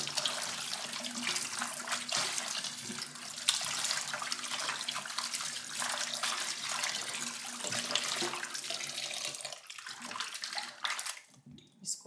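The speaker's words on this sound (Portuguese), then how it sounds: "Escorrer uma vez essa água com vinagre" Vinegar water pours and drains steadily off beef tripe in a sink, a continuous close splashing stream that tapers off near the end with a few clinks.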